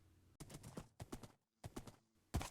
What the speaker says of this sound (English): I set off with my horse across the oceans and mountains